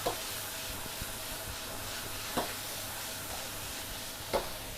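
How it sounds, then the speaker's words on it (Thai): Beef stir-frying in a pan for Thai basil beef gives a steady, close sizzling hiss, broken by a few sharp clacks of a spatula against the pan. "ใส่เนื้อลงไปผัดเลยนะคะ"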